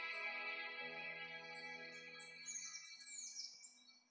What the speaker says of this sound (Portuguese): Passarinhos mais estranhos.